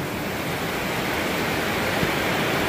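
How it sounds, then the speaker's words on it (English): Heavy rain hammers down steadily while water gushes off a downspout, making a dense, loud, unbroken wash of noise that stays even from start to finish. No one speaks over it. "Oh, it's raining real hard. Real hard. Like, look at the water pouring off the downspout."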